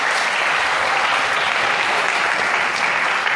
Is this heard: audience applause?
yes